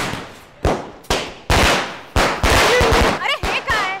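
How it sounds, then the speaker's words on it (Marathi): Loud Diwali firecrackers burst in sharp, separate bangs, about six in quick succession, each with a short crackling tail, with a voice heard briefly near the end. "अरे हे काय इतके आवाज करणारे फटाके?"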